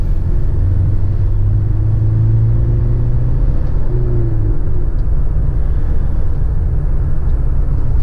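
A 2009 Toyota Hilux pickup with a 2.5-litre diesel drives along, its engine a steady low rumble with a faint rising drone as it pulls, heard loud from inside the cab without talk.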